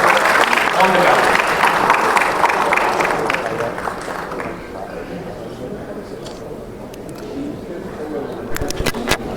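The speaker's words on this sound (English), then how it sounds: "Let's give a round of applause to all our guests on the panel." Audience applause fills a hall at a business conclave in Kolkata, loud and dense for several seconds before thinning out, with a voice speaking over the fading claps.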